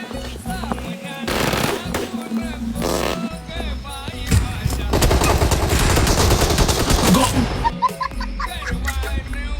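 Rapid bursts of automatic gunfire from a PUBG mobile game crackle densely and continuously, with several overlapping volleys under excited players' voices talking throughout.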